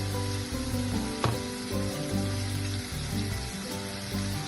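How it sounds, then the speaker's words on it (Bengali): Prawns frying in a pan, a continuous close sizzle with soft stirring clinks, steady and alone without talk. "চিংড়ি মাছগুলো ভালো করে ভাজা হয়ে গেলে আমি এগুলোকে তুলে নেব।"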